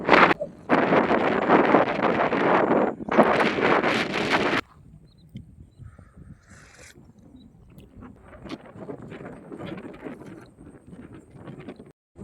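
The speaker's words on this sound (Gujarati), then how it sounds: "પવન એટલો ચાલુ છે" Strong wind gusting at a riverside camping spot, loud buffeting roars in two long bursts, then dropping to a softer, uneven rustle.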